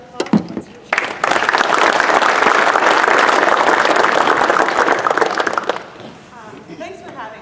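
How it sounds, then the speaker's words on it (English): Audience applause breaks out for a guest presenter at a coaching skills session, a loud, dense wash of clapping that swells after a brief lead-in, holds steady for several seconds, then fades into quiet room noise. "Please give her a round of applause."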